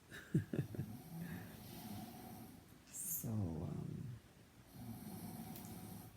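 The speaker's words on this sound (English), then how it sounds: "I don't know if you can hear her snoring, but she is." A woman's soft, rasping snoring breaths come in slow, spaced cycles, fairly quiet, with a brief word spoken near the start.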